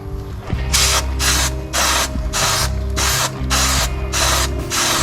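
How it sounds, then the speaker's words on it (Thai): Repeated hissing bursts of chain cleaner spray on a Ducati Monster 937 motorcycle chain, about eight in a row, each lasting a fraction of a second, over a low steady mechanical hum and clicking. "พ่นสเปรย์ล้าง"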